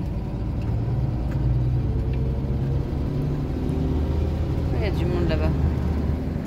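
A truck rolls along beach sand, its engine a steady mid-range rumble with continuous low road noise throughout, close and fairly loud, with a brief faint whistling squeal toward the end.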